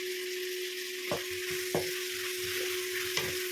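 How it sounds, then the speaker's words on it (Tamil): Chopped coriander, tomato and green chilli sauté in a pan with a constant soft sizzle, broken by several sharp knocks of a spoon or spatula against the pan, with a steady electrical hum underneath and no voices. "இது கூட வந்து வெட்டி வச்சிருந்த கொத்தமல்லி தக்காளி பச்சை மிளகா எல்லாத்தையும் போட்டு ஒரு வதக்க வதக்கிறேன்"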